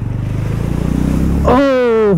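A motorcycle splashes through a fast-flowing stream in the mountains of Ladakh, its engine thrumming in a throbbing pulse, then a loud rising whine as the revs climb.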